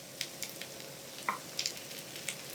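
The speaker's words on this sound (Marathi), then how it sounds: "असे गोल मटोल झाले ना की दोनही बाजूने हे खरपूस असे भाजले जातात" Appe dumplings fry crisp in an appe pan with a quiet, steady sizzle, broken by a few soft clicks and light taps as the dumplings are turned. The sound is close and there is no talk.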